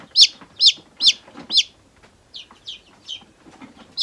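A small white-to-light-gray silkie chick with feathered feet chirps high and clear, about eight evenly spaced peeps close by, the last few slightly softer, with no talking.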